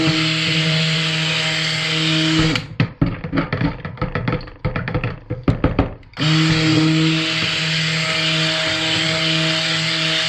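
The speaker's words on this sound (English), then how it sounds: "Give it a quick buzz with the stick blender." A stick blender buzzes through a mixture with a steady motor whine for a couple of seconds, gives way to a run of clattering knocks, then drones on again until the end.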